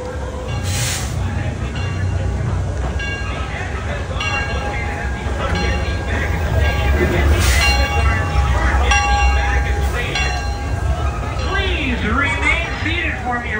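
An amusement park train ride at Six Flags Over Texas rumbles along with a steady low clatter, a few bell-like tones sounding over it while people talk throughout.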